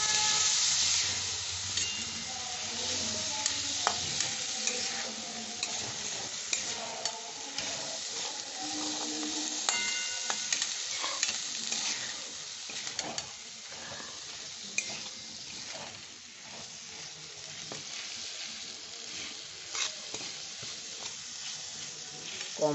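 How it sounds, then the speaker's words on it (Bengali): Green peas sauté with other vegetables in a wok over low heat, a continuous close sizzle broken by frequent scraping stir clicks and spatula taps. "এর সাথে এই কড়াইশুঁটিটা আছে, এটাও দিয়ে দিলাম, একসাথে কষা হয়ে যাবে"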